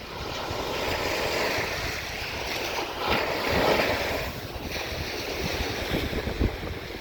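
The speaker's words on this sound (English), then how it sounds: "Tide is coming in" Incoming tide waves wash onto a Delaware Bay beach in New Jersey, a steady loud roar of surf with gusting wind noise over the microphone and no voices.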